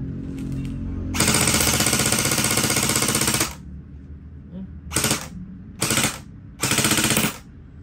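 An airsoft AK-pattern rifle fires on full auto in four loud, rapid bursts: a long opening burst of about two seconds, then three shorter bursts separated by brief quiet gaps.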